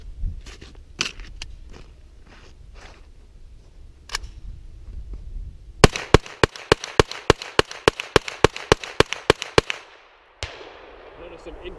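Rapid string of sharp gunshots from a PSA AKV 9mm carbine at a shooting range, about fifteen loud cracks in quick succession, preceded by softer scattered clicks and handling noise and followed by a lone shot.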